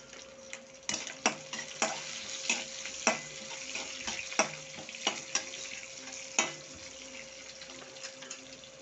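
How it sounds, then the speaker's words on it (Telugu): Halved green chillies fry in hot oil in a pan for tomato curry, giving a steady close sizzle broken by a string of sharp spatula scrapes and taps as they are stirred. "ఇలా మీరు దీంట్లో వేసుకునేసి ఫ్రై చేయండి."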